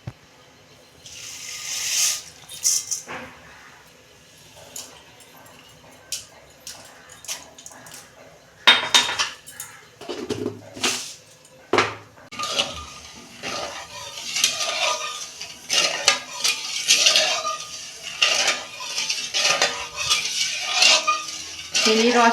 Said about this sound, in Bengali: এই যে 1 মগ আমি জল দিচ্ছি, চিনির রসটা করব। 1 কাপ চিনি দিচ্ছি।